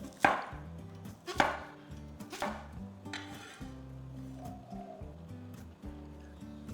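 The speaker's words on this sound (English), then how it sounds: "Slice the young corn diagonally." A knife slices young corn diagonally on a cutting board, giving about four crisp, separate chops under steady background music.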